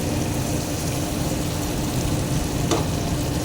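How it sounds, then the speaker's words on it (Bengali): Chicken pieces sauté slowly in a pan for a chicken curry, giving an even, close sizzle with a brief stirring scrape partway through. "আমি অনেকটা হাতে সময় নিয়ে কষাচ্ছি"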